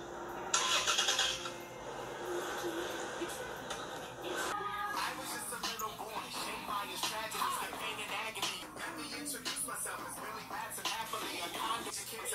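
A 2019 Toyota Tacoma TRD Pro Arctic version engine cranks and catches, then settles into a steady mid-pitched running hum, close by, with a few faint shuffling noises around it.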